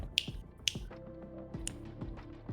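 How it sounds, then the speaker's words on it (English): Sharp finger snaps, two crisp close snaps near the start and a third a second later, set against a low hum and faint background sounds. "Don't make me snap my fingers in a Z formation"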